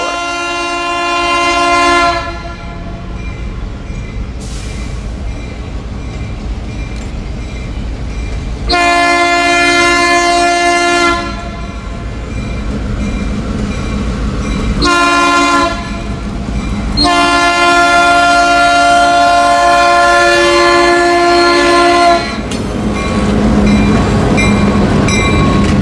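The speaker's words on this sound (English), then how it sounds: "the train blew for the Goddard Railroad" A coke train horn blasts for a railroad crossing at Goddard Road in Taylor. It sounds as loud, long, sustained blows with brief breaks, over a steady rumble of rail cars, close and dominant.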